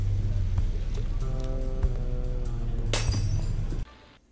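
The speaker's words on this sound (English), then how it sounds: "You just broke the glass." A glass shatters in a game scene with a sharp crash and tinkle of fragments, rising over a steady low ambient rumble before the sound cuts away to near silence.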